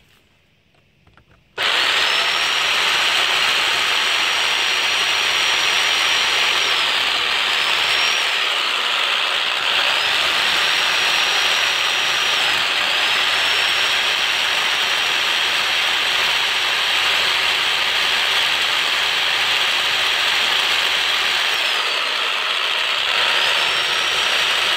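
A loud, steady power drill whine grinds on continuously for a long stretch as it bores into a brick wall, pitch dipping briefly now and then.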